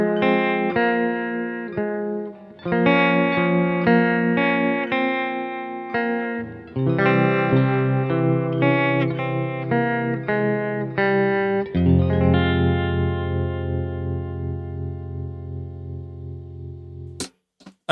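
An electric guitar plays a twangy riff through a Walrus Audio Monumental harmonic tremolo pedal in an old-style clean Fender tone. Picked notes and sustained chords pulse gently in volume and ring out before a final short pluck.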